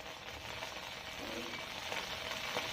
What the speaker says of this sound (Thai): เดี๋ยวเรา มาผัด เต้าหู้ดีกว่าอีกทีนึง